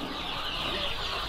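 Day-old KUB chicks cheep together in a dense, continuous chorus of high peeps at close range, with no voices over it.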